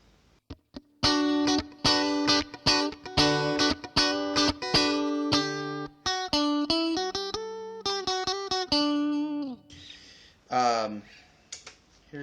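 An electric guitar played through an AC30 amp model on a Line 6 POD HD500X rings out in bright, chiming picked notes and chords in a steady rhythm, closing with a few softer strums.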